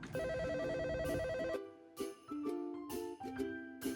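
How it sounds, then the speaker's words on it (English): A mobile phone rings with a loud melodic ringtone, repeating tonal phrases that then break into shorter, choppier bursts. "At the end of the job, the mobile rang."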